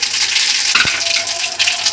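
Whole cumin seeds dropped into hot mustard oil sizzle loudly and steadily up close, a bright continuous frying hiss with a brief splash as they land.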